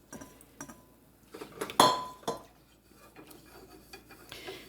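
A whisk clinks against a bowl while milk is stirred into a brown sugar mixture for butterscotch pudding, off the heat, in a home kitchen; light irregular taps and scrapes with one sharper clatter, close and quiet, with no talking.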